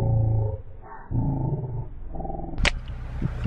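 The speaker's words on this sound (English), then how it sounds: "Have you met my little dog?" A small dog growls excitedly near the beach during a Scottish van trip, a close, loud run of rough, throaty grumbles that rises into a sharper yelp near the end.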